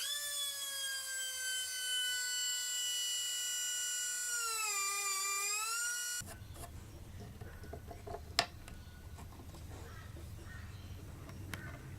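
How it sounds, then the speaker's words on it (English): A barrel sander rounding out a cavity in a Telecaster-style guitar body, giving a steady high motor whine that sags and recovers under load, then cuts off, leaving faint workshop noise and a sharp tap. "I'm just ever so slightly coming in with the barrel sander, just opening it up, making it round"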